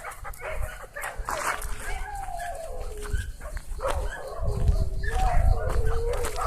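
A dog being untied whimpers and gives short yips and barks nearby, mixed with a person talking and rustling movement, growing louder toward the end.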